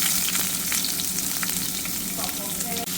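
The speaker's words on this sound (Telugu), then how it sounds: "పోపు గింజలు వేసుకుంటున్నాను గైస్. కరివేపాకు వేసుకున్నాను గైస్." Seasoning seeds and curry leaves fry in hot oil for a curry, making a loud, continuous, close sizzle with faint crackles and no voices.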